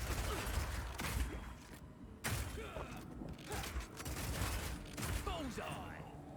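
A power shot skill fires in a video game, with sharp mechanical impact bursts and creaking clanks layered over busy game noise and a speaking voice.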